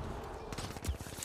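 Rapid gunfire bursts crackle in an online shooter game, a quick rattling string of shots at moderate volume over a second, with no clear talk.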